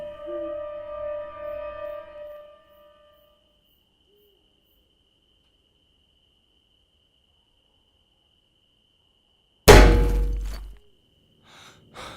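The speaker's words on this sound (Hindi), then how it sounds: "कैबिन के दीवार पे एक जोरदार पत्थर की आवाज़ आई" After a fading tone and long silence, a single loud, sharp thud strikes nearby as a stone hits a railway cabin wall at night.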